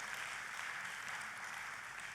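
A church congregation applauds for God during a service, a steady, fairly faint wash of clapping that holds at an even level from start to finish, with no clear voices over it.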